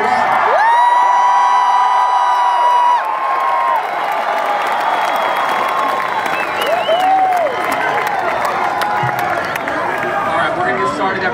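A large crowd gathered before a Charlie Kirk event fills the space with steady cheering, whoops and applause, loud and continuous throughout, with scattered shouts and voices rising out of the din.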